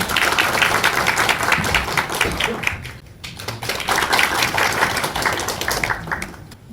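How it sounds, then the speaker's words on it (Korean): An audience at a regional population-decline forum in South Gyeongnam claps to welcome a speaker, loud dense applause that dips briefly midway and then swells again, with some murmuring underneath. "박수로 맞아주시기 바랍니다."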